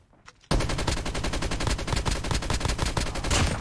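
Rapid automatic gunfire from a mobile shooter game played on a tablet, opening after a short quiet moment and then pouring out as a loud, dense, continuous burst of shots with no talking.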